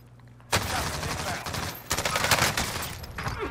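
Video game gunfire bursts in suddenly after a short quiet lead-in, a dense, loud run of rapid shots that keeps rattling with small swells until the end.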